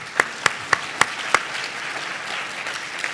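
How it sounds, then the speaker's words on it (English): A handful of sharp hand claps at a tribal opioid and fentanyl summit's main session, five evenly spaced crisp slaps for the session moderator, followed by faint room murmur. "If we can give her a round of applause"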